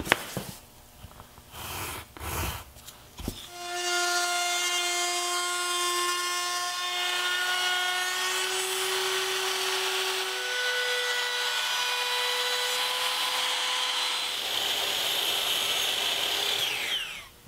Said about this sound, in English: So I'm gonna use a chamfer bit to create a tray